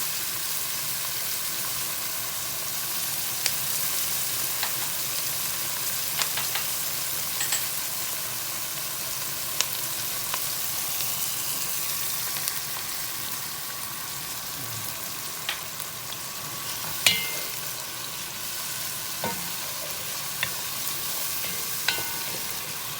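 Vegetables stir-fried with bagoong shrimp paste in a pan, provincial home cooking: a steady, even sizzle and hiss runs throughout, with scattered faint clinks of the utensil and no talking.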